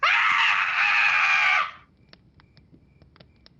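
A single loud, sustained scream from a spooky story lasts about a second and a half, then cuts off and leaves faint scattered ticks and quiet background.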